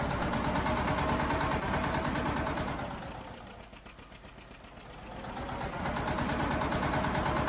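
A John Deere 730 diesel tractor engine, fitted with custom sounds, runs with a steady, loud, rapid low chugging that dips quieter midway and then swells back up.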